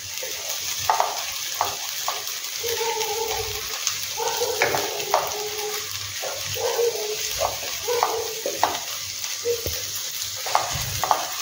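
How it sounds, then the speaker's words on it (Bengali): Onions frying in a pan for a creamy chicken dish, a close steady sizzle broken by frequent clinks and scrapes of stirring, with faint background noises. "এবার এখানে নুন দেবো আর একটু পেঁয়াজটা ভাজতে হবে।"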